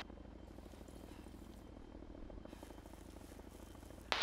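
A military helicopter flies overhead with a steady, low, throbbing rotor drone at moderate-to-faint level, cut off by a sudden sharp noise at the very end.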